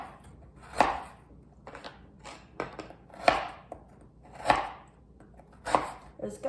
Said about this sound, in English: So I'm just going to cut some slivers right here